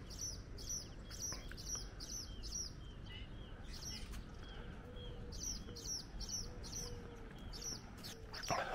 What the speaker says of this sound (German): Ja, schönes Vogelgezwitscher hier.